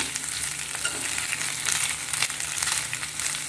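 Onions and grated coconut frying in a pan, a dense close sizzle and crackle with continuous stirring scrapes throughout, steady and moderately loud, with no voices.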